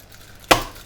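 A single sharp knife chop through chocolate on a cutting board while it is broken into small pieces for a mousse, close and crisp with a short decay.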